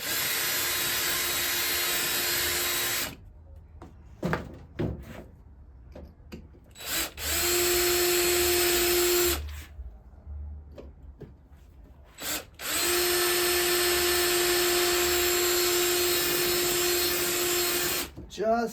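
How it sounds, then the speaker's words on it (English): A power drill bores out rivets on a car vent window in three long bursts, a loud whirring whine broken by pauses with clicks and handling noises. "I'm going to take a drill bit"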